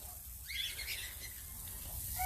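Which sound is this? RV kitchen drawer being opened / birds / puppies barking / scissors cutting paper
birds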